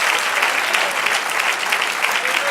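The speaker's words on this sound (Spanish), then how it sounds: "Dale un aplauso al Señor." A church congregation claps together in a dense, steady burst of applause during worship, loud and continuous for a couple of seconds.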